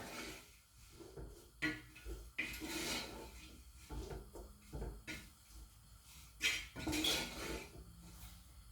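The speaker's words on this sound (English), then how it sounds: "Stir it up." Kale and green peas soup being stirred in a pot, giving soft scraping and clinking of a utensil against the pot in irregular bursts, fairly quiet and close.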